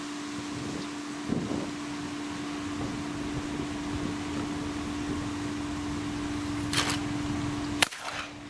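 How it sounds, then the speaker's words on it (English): A Fabarm XLR5 Waterfowler semi-automatic shotgun fires at clay targets outdoors, with two or three sharp reports spaced several seconds apart over a steady background hum. "Let me break a few clays just for the fun of it."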